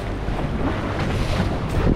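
Wind buffets a small boat out on the open ocean in a storm, a dense roar of gusting wind against the microphone mixed with sea wash, close and continuous for a couple of seconds.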